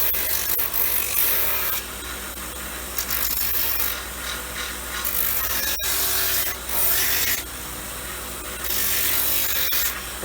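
A grinder runs against the leather edge of an orthotic sandal, a continuous loud abrasive whir that dips and swells as pressure changes, with one sharp tick midway, close and alone.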